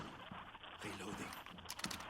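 Weapon reloading in the Rainbow Six Siege video game, a quick run of mechanical clicks and clacks over about two seconds, mixed with game sounds and some speech-like activity.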